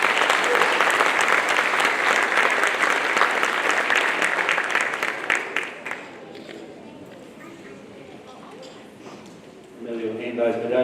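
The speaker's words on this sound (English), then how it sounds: "So round of applause for all of them." Steady, loud applause from an audience at a junior and youth football club awards night fills the first six seconds, then thins out and fades, with a voice starting to speak near the end.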